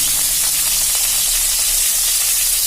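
Chopped onions hit hot oil already holding a bay leaf, two dried chillies and cumin for a dhaba-style mixed dal tadka, giving a loud, close, continuous sizzle and hiss with no one speaking.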